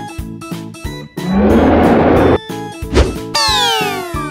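One long, loud cow moo rises over a cheerful looping tune, followed by a short thump and a descending musical sweep.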